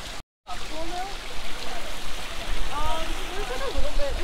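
Water running and trickling between natural hot spring pools at Terwilliger (Cougar) Hot Springs in Oregon, a steady broadband wash close by with faint voices in the background.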